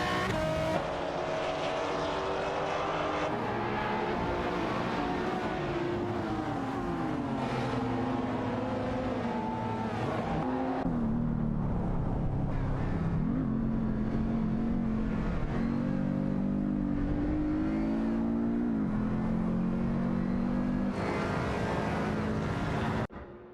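Race car engines in an AI racing simulation, a continuous high whining drone whose pitch rises and falls as cars accelerate and shift around the track, steady and fairly loud, with no talking.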